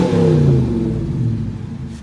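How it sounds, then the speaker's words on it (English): A Dodge Challenger R/T with the 5.7 Hemi V8 revving nearby, a loud, deep, throaty roar that peaks early and then falls away as the throttle is released, with no talking. "Let's give it some gas. Let you hear that."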